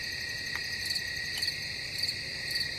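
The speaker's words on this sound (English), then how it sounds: "Oh, here it is, the crickets." Crickets chirp in a Halloween-themed area of a video game, a steady high trill with faint repeating pulses, no voices present.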